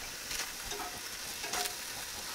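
Food searing on a hot plancha grill gives a faint, steady hiss of frying with a couple of brief louder sizzling bursts, heard alone with no talk.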